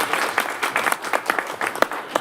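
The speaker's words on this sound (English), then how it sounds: "Can we clap?" Audience at a reparations commission meeting clapping in a short burst of dense, uneven applause lasting about two seconds, with individual sharp claps standing out near the end.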